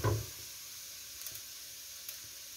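Finely minced garlic hits a hot pan for a volován filling, giving a sharp burst of sizzle at first that settles into a quieter, steady frying hiss.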